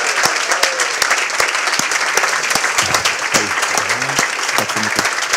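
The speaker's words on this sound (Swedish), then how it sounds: "Det gör vi en varm applåd." Warm, loud audience applause at a Swedish popular-science award ceremony, with crisp individual claps through a steady wash of clapping and a voice briefly speaking over it midway.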